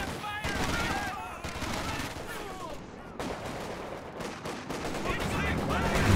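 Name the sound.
howitzer artillery fire in Company of Heroes 2 video game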